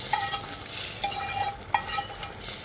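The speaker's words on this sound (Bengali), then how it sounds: "এদিকে যে ডালটা হচ্ছিল সেই ডালের মধ্যে ফোড়নটাকে দিয়ে দিচ্ছি" Hot spiced tempering (phoron) is poured into simmering masoor dal for a malabar spinach dish, giving a steady soft sizzle with faint stirring clinks, no one talking.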